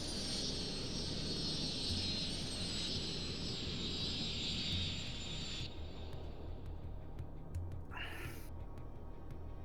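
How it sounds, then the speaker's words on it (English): A passenger airplane comes in to land in the city-building game Cities: Skylines, giving a steady broad engine roar that holds for several seconds and then suddenly drops to a quieter rumble. "Oh, here comes a plane now."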